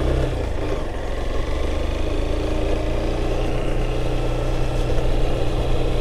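A motorcycle engine idling on the way to Lagoa Azul in Luzimangues, a steady low rumbling putter, close and continuous, with no one speaking.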